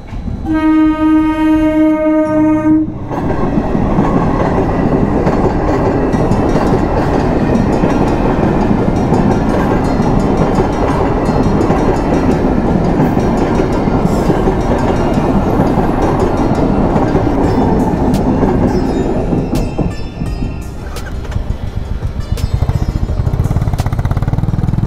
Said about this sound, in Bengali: ট্রেনও চলে এসছে